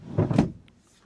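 A large drawer slides along heavy-duty drawer runners in an off-grid camper van conversion, one short rolling push ending in a soft close, close up with no talk.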